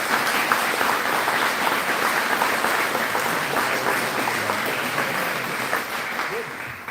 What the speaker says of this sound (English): So you all deserve a big round of applause.